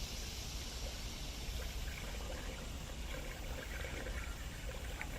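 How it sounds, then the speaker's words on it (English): A steady stream of antifreeze pours into the cooling system of a 2000 Isuzu Rodeo 3.2, a continuous close liquid gurgle and trickle with no talking. "we got our gallon of antifreeze in"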